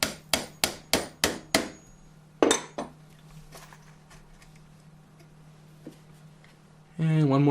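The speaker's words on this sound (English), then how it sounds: "drill a hole, nail it, and repeat the process" A hammer drives nails into a wooden birdhouse: six sharp, evenly spaced strikes, then a short pause and two more blows with fading ringing, before a voice begins speaking at the end.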